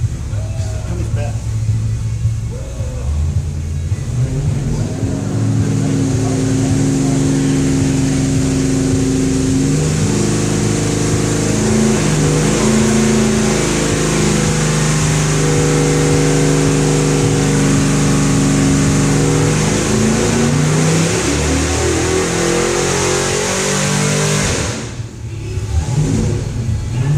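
Mopar 440 Six Pack V8 running on an engine dyno, revving repeatedly with rising and falling pitch sweeps, loud and close throughout, dropping briefly near the end before picking back up.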